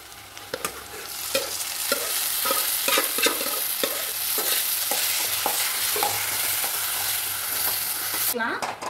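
Oil sizzles steadily as onions and dal fry in a pan, with a spoon scraping and stirring in a regular rhythm close up.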